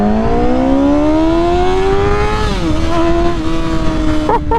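A Yamaha R6 sport bike engine howling at high revs while being ridden, pitch climbing steadily and then dipping as the rider shifts, loud and close with constant wind roar.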